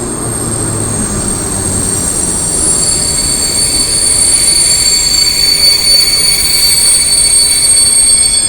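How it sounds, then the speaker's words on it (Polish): A TLK Galicja passenger train pulls into Kraków Górny station, a loud, continuous rolling rumble that builds steadily, topped by sustained high-pitched wheel squeal. "Wjeżdża TLK Galicja do Krakowa Górnego."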